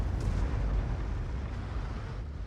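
Artillery shell blasts in a tank battle video game: a continuous loud, deep rumbling roar that fills the whole moment, with no separate individual booms, heard close and alone.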